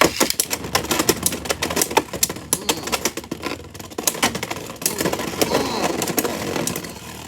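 Beyblade X tops Knightlance and Knightmail whirring in a stadium with dense, rapid metallic clicks and clashes, loud and continuous, with sharper bursts of impacts throughout.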